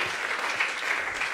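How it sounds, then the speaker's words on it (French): Applause from an audience at an innovation awards day, a short burst of dense, even clapping that sounds like a crowd in a hall, steady and moderately loud throughout. "Pascal attend ses applaudissements"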